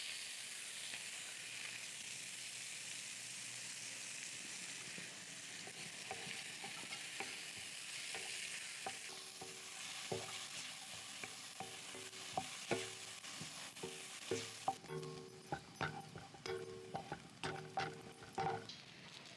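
Sliced large onions and fennel seeds sizzle in hot oil in a pan. A steady hiss underlies sharp, irregular scraping and stirring strokes that grow more frequent toward the end.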